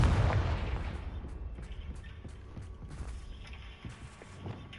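A Confringo spell blast in the video game Hogwarts Legacy bursts loudly at the outset, then rumbles and fades into a string of soft clanking and thudding game sounds.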